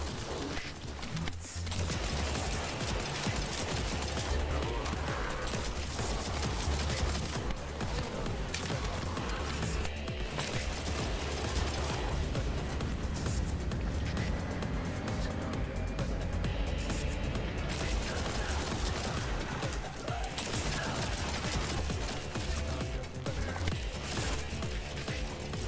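Rapid pistol fire in The First Descendant video game, a dense stream of shots layered over game effects, impacts and explosions, loud and continuous throughout.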